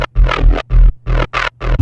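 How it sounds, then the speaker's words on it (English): A dry, buzzy bass synth sample with effects turned off plays a short rhythmic pattern of punchy notes with brief gaps between them, loud and clean. "So I want to quickly go over this bass."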